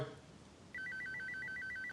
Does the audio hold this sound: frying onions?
no